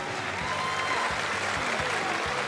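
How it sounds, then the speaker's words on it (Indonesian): Live comedy reunion show crowd applauding a performer called Baba: steady, even clapping from a full audience, fairly close and unbroken, with low musical tones pulsing underneath. "Bagi tepukan,"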